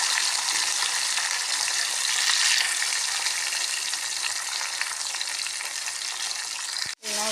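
Tomatoes sizzling in plenty of hot oil with curry leaves, a steady broad frying hiss that holds for about seven seconds, swelling briefly midway and cutting out abruptly near the end.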